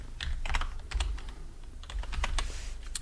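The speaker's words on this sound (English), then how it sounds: "we're going to type in the first director, which is Osborne." A computer keyboard typing a name, a run of rapid, close keystrokes in uneven clusters over a low steady hum, with no talking.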